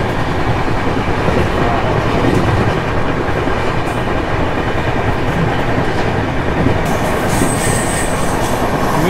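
A passenger train runs at speed on the rails on a Coimbatore to Mumbai journey, heard as a loud, steady rumble with wheel clatter and a faint squeal near the end.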